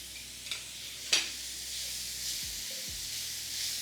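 Butter sizzling in a hot pan for Brazilian savoury pancakes, a soft steady hiss with a couple of faint clinks and stirring scrapes, fairly quiet and without talk.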